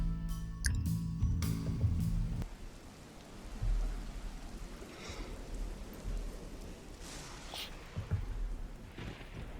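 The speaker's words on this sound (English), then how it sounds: "it's mostly sounds of rain right now" Steady rain ambience played over a tabletop role-playing session, a broad continuous hiss of falling rain after a brief burst of music at the start, with faint low rumbles.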